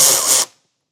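A power tool runs loud and close for a brief burst, removing a 10mm fastener in a car's wheel well, then cuts off sharply into silence.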